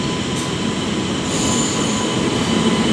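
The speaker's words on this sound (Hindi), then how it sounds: "मेरा ट्रेन आ गया है" Train rolling into a railway station platform on a journey in Jharkhand, a steady loud rumble of wheels and wagons with faint squealing, continuous throughout and without talk.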